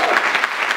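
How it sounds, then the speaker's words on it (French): Applause from a church congregation during a youth worship service, a brief, dense wash of clapping filling the room without pause. "Je crois qu'on peut applaudir le Seigneur pour ces paroles"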